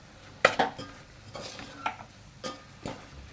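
A spoon stirs ground sesame and niger seed powder into a pan of Bhogi vegetables, giving several sharp scrapes and clinks against the pan with a faint sizzle between them.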